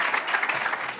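Steady audience applause at a women's summit, a dense wash of many hands clapping together for a speaker, fairly close and continuous with no talk over it.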